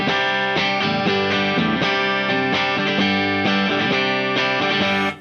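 Fender Aerodyne Telecaster made in Japan plays clean without effects, a continuous bright run of strummed chords and notes, close and steady for about five seconds before cutting off.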